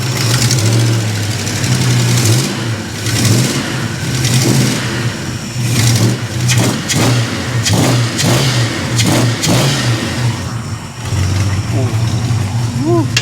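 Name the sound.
1973 Plymouth Scamp engine revving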